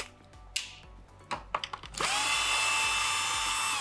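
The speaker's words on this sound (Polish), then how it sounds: "No wylewkę trzeba odkręcić do końca. Dzisiaj już, słuchajcie, przy sobocie wkrętarką." A cordless drill unscrews the spout of a DeLonghi coffee machine, starting with a few short clicks and whirring bursts before settling into a loud, steady high-pitched spin up close.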